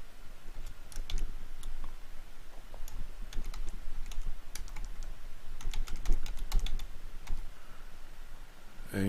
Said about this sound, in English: So I'll just type in my details